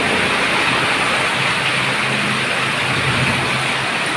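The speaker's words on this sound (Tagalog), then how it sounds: "Paglabas ko ng kwarto, lakas na ng ulan." Heavy summer rain pours down steadily onto a home terrace in a dense, continuous roar, loud and close, with no voices.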